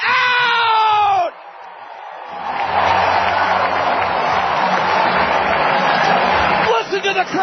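A baseball crowd at a Cedar Rapids Kernels minor league game roars after a runner is thrown out at the plate, rising after a short announcer line and then holding loud and steady for several seconds.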